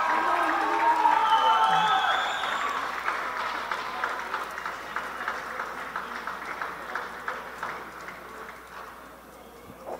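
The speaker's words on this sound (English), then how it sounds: "Good applause from both sets of fans." Rugby fans at an Asia Rugby under-18 sevens tournament in Hong Kong clap steadily, a broad crowd applause heard from a distance that gradually thins and fades, with crowd murmur and faint cheering mixed in.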